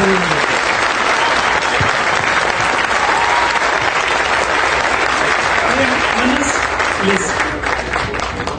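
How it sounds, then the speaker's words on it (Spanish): An audience at a book fair event bursts into sustained, dense applause that stays loud and even for several seconds, with some voices and shouts mixed through the clapping. "Un aplauso para los tres compañeros"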